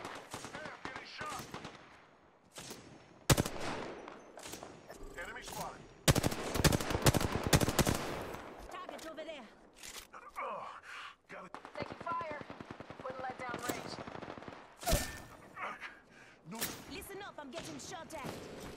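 Rapid bursts of gunfire strike a player during an Apex Legends match, loud volleys and single cracks scattered across the stretch, with game voice callouts speaking in between.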